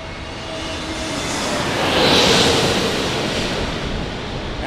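Airbus A320neo-family jet in American Airlines service, its engine spooling at a runway, a broad steady roar swelling to a peak around the middle then easing, with a faint whine on top.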